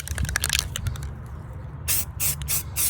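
A spray can hisses in several short bursts, applying tan paint to a gun for bottomland camo, close up after a stretch of quieter handling noise.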